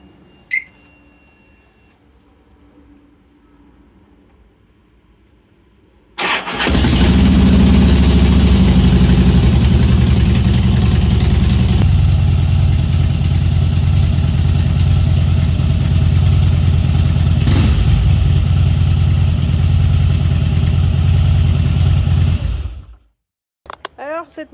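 A 2008 Harley-Davidson Softail Cross Bones, fresh from a primary oil change, fires up abruptly after a quiet stretch and settles into a loud, deep, lumpy idle close by, running steadily for about fifteen seconds before cutting off.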